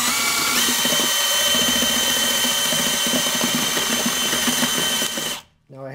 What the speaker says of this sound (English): I have my drill set on slow speed, which means it has very high torque